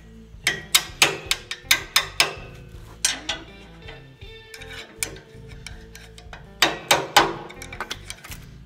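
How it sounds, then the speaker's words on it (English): Hammer tapping a key into the keyway of a pulley hub on a homemade dust-collector blower built from a Billygoat debris loader: sharp, close metallic knocks in quick bursts separated by short pauses. "put the pulley on and then hammer the keyway in"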